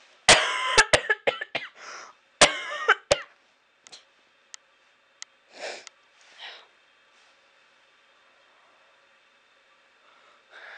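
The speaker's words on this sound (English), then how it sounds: "I can't stop coughing" Repeated coughing from a person with a cold and congested sinuses, close and loud, in two tight clusters of hacking bursts followed by a few scattered, fainter coughs and breaths, with no talking.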